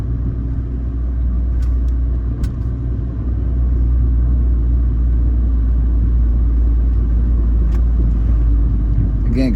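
A car drives along a suburban residential street in Richfield, Minnesota, heard from inside as a steady loud low rumble of engine and road noise with a few faint clicks, continuous for about ten seconds.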